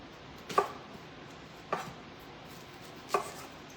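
A knife working on shallots against a cutting board, three separate quiet taps spaced about a second apart, close and alone with no talk.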